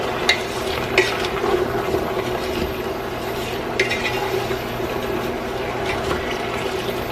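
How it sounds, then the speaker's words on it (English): Beef stew ingredients stirred in a pot with vegetables, a continuous sizzling, scraping churn with a few sharper knocks of the spoon against the pot, steady and close with no talking. "Stir it around."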